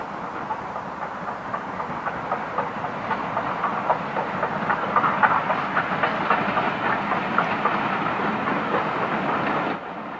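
A 1960s Southern Region steam express locomotive rumbles past with steady chuffing and rhythmic clatter, loud and sustained, before cutting off abruptly at the end.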